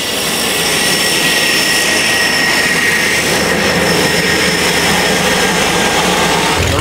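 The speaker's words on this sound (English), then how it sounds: "our plane is leaving us" A plane departing a jungle airstrip, its engines giving a loud, steady roar with a high whine on top, close by and continuous.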